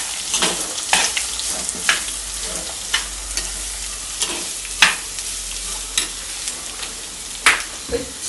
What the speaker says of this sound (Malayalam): ഇനി നല്ല ഉണങ്ങിട്ട് ഇളക്കി കൊടുക്കുക കേട്ടോ.